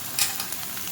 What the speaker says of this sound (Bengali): এবার আমি এর মধ্যে কেটে রাখা আলুগুলো দিয়ে দেব।